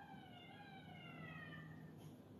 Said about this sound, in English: oh wow, there's like six ambulances going on right now.